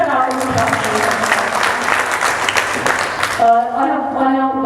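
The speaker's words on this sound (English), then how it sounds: "So a better round of applause." Audience applause at a school student talent showcase, a loud sustained burst of clapping from a large crowd that fades as it ends, leaving a faint tonal hum.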